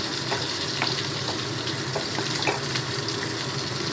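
A paste of pointed gourd peel is stirred in a kadai, giving a steady soft sizzle with light scraping strokes against the pan, close and even throughout with no talking.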